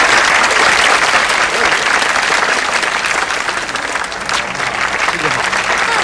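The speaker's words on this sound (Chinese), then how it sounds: "来，掌声啊！" Concert audience applauding as two backing singers come on stage, a dense, loud wash of clapping that holds steady throughout, with voices mixed in.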